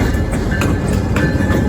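Freight train rolling past just below the Clearwater rail yard in Florida, a steady loud rumble with faint rhythmic clicks and a thin high wheel tone running through the whole stretch.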